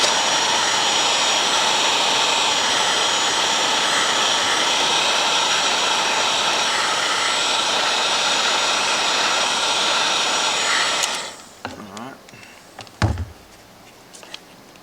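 Heat gun blowing a steady, loud roar while shrinking heat shrink tubing over wires on a washing machine motor tester build, running for about eleven seconds before cutting off, followed by a few small handling clicks and knocks.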